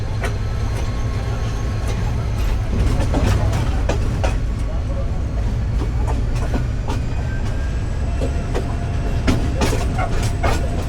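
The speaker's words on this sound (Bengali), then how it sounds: "আমরা আরেকটা লাইন দিয়ে যে কিশোরগঞ্জের দিকে চলে যাচ্ছি" On a Bangladeshi passenger train rolling along another line toward Kishoreganj, the carriage gives a loud continuous rumble with repeated clickety-clack wheel beats over rail joints, heard from inside the car.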